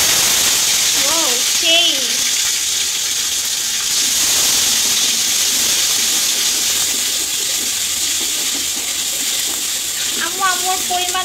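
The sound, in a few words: garlic paste added to a frying pan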